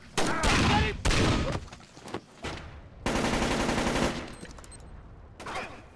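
Automatic gunfire and rapid shots from a Splinter Cell stealth-action video game firefight, loud bursts coming in several waves with short gaps between them, with no talking over it.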